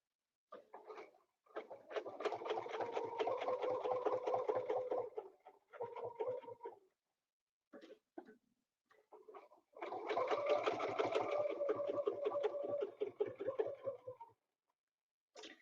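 A sewing machine runs in two long bursts while stitching a spin and echo quilting design, its needle thumping rapidly and evenly close by, with a short stop-and-start stretch and a pause between the runs.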